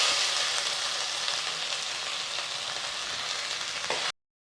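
Chopped onion sautés in a pan for Chettinad pepper chicken, a continuous close sizzle and crackle with faint stirring, steady before cutting off abruptly near the end.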